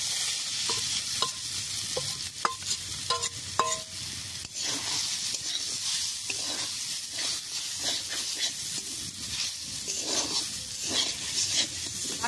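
Jackfruit seeds frying in ghee, a steady close sizzle with intermittent scraping stirs of a utensil against the pan.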